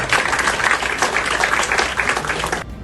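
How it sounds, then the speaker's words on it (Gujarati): Steady, dense applause from a crowd at a youth event in Rajkot fills the clip, continuous clapping at even strength before cutting off sharply near the end. "એ આપણા બધા માટે એક વખત જોરદાર તાળીઓ એમના માટે"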